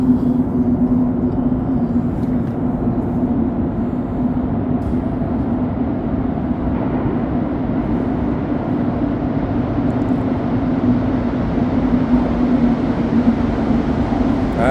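A steady, loud low rumble of a Montreal Metro Azure train rolling slowly into a station, with a constant hum and faint mechanical noise throughout, no voices.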